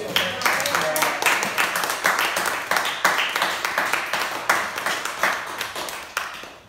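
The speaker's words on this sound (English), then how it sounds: "let's give a round of applause" A small audience at an art exhibition talk on immigration gives a round of applause, distinct individual claps falling in a quick, uneven rhythm and tapering off at the end.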